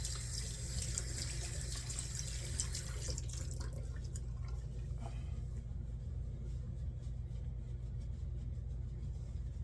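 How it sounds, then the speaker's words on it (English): Alum block rinsed under a running tap while shaving, a steady close hiss of flowing water with faint splashes and drips, no talking. "Let me rinse this alum off."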